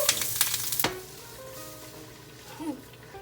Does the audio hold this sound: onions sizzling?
yes